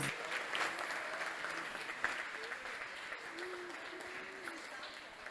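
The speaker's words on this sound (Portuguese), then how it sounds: "Vamos aplaudir ao Senhor." A church congregation applauding during a worship service, sustained clapping from a crowd of moderate size with faint voices and a little singing underneath, fading slightly toward the end.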